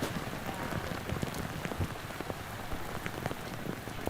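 Pouring rain falls steadily onto a trout stream during a brook trout fishing outing, a dense, continuous hiss of drops pattering on water and surfaces with no pauses.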